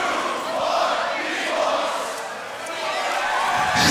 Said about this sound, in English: Split decision, make some noise, give it up for Footbox G